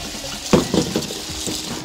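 Tap water runs into a kitchen sink while bok choy is washed, a steady, close splashing flow with a few louder gushes and no voices.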